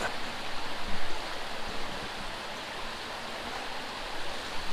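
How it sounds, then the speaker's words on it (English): Water in a creek that has risen slightly flows in a steady, broadband rush, close and continuous, with no talk over it and a brief bump near the end. "Let's get in the creek. Creek went up a little bit."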